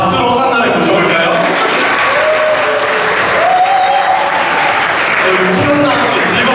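Loud audience applause welcoming a dance team onto the stage at a church festival, steady, dense clapping with cheering voices and a few whoops mixed in throughout.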